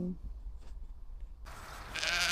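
Sheep bleating outdoors on a spring day in the Netherlands, faint and somewhat distant over steady wind and ambient noise, with a brighter burst of sound near the end.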